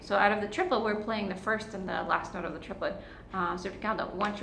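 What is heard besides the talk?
No everyday noises stand out.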